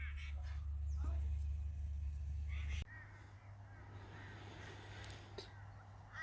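Crow-like birds give scattered caws and calls over outdoor background noise, with a low rumble that cuts off partway through and a voice heard faintly.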